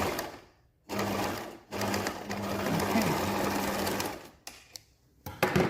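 A sewing machine stitches binding onto a quilted waistcoat, humming in two sustained runs separated by a short gap, followed by a couple of quick brief bursts; the sound is moderately quiet and close.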